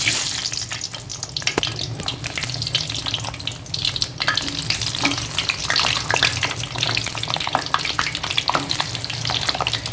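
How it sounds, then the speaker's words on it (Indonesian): Steady, loud crackling sizzle of large potato pieces deep frying in hot oil, with bursts of popping throughout and no talking. "sembari ini minyaknya sudah panas, kita goreng kentang yang besar"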